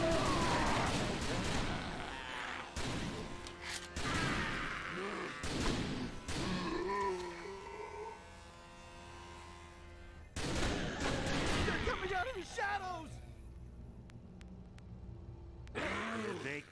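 Bursts of gunfire from The House of the Dead: Overkill, loud rapid volleys and impacts in several clusters separated by short lulls, mixed with groaning creatures and spoken game dialogue.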